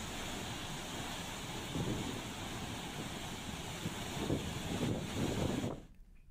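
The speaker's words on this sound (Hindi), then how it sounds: "आप भी देख सकते हैं कैसे धौलीगंगा डैम के गेट खोले गए तो कितनी रफ्तार से पानी आगे निकला" Fast river water surging downstream after the Dhauliganga dam gates were opened, a steady loud broadband roar without voices that stops abruptly near the end.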